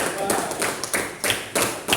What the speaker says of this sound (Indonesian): Tepuk tangan untuk Dita dan Rio